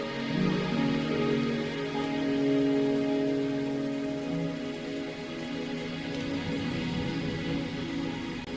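Steady rain patters on surfaces in the video game Wuthering Waves while a soft, sustained musical drone plays underneath, constant and fairly loud throughout.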